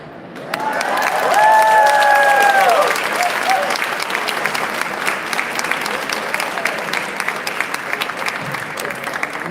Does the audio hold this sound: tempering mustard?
no